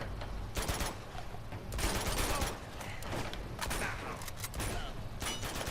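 Dense bursts of automatic gunfire and shots crackle continuously in the video game Uncharted 2: Among Thieves, a busy firefight with no clear pauses.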